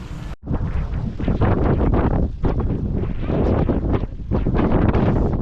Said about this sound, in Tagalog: Ay, lakas ang hangin.